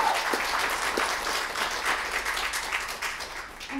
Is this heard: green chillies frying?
no